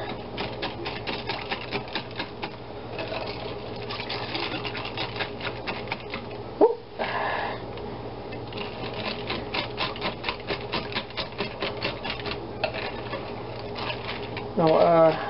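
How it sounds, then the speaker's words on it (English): A whisk beats a bittersweet chocolate cream mixture with cognac in a bowl, making rapid, steady clicking and tapping close by that runs throughout, with a brief louder knock midway. "We get our whisk, and we, pardon my language, whisk the hell out of it."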